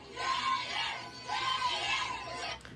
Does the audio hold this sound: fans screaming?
yes